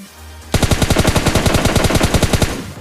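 Automatic gunfire in PUBG Lite breaks out after a brief quiet moment, a rapid, evenly spaced stream of loud, close shots lasting about two seconds.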